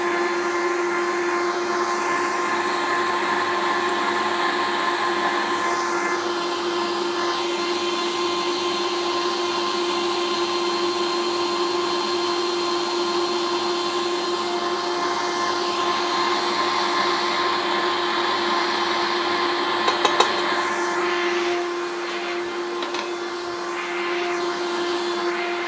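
Electric mixer whipping a salted, sugared tiramisu mixture toward stiff peaks, a steady close-up motor whine running alone for the whole stretch with only a slight change near the end.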